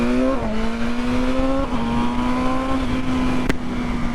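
A 2023 BMW M1000R motorcycle engine drones and climbs in pitch through shifts while accelerating hard, loud and close with steady wind noise, alone with no talk.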